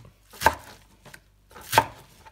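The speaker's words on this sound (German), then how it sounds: "zuerst machen wir das Gemüse spulen und danach einfach schneiden" Vegetables for a Thai stir-fry chopped with a knife on a board, two crisp, close chops with small taps between, alone and without talk.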